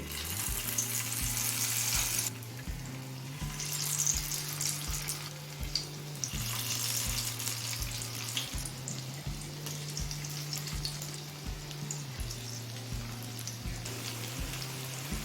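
Capsicum pakoras deep-fry in hot oil, giving a continuous bubbling sizzle close by, with a low repeating hum running underneath and a few brief bursts of louder hiss, with no speech.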